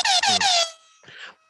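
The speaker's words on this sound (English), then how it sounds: "You like your air horn?" An air horn blows three loud, close, rapid blasts in a row, followed by a weaker, fading squeak of a final short blast, during a podcast interview.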